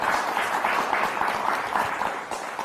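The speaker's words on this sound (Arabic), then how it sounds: "صفقوا له لمقداد" Studio audience breaks into brisk, steady applause on an Arabic TV entertainment show, many hands clapping together at close range.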